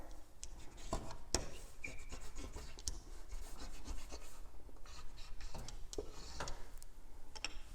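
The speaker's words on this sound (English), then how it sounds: "Give it a press with the seam roller." A seam roller presses a quilt fabric seam in quiet, close, repeated rubbing strokes with scattered soft ticks, each pass brief and gentle.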